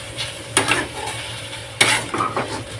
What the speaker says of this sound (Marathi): आता आपण हिला हलवून जेणेकरून भेंडीची भाजी चिकटपणा निघून जाईल सगळं